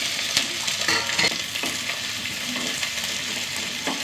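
Small onions sauté in a pan with curry leaves and garlic, giving a steady close sizzle broken by occasional stirring scrapes, with no talking.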